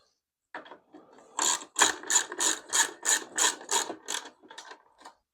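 A hand ratchet snugs bolts while a new sissy bar goes onto a Harley-Davidson Low Rider, a close, loud run of about ten even clicking strokes with a few lighter clicks at the start and end, no voices.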